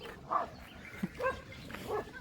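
Dogs near a cattle shed bark and snarl in short, scattered bursts, a few sharp yelps and growls spaced across two seconds, moderately faint and mid-distance.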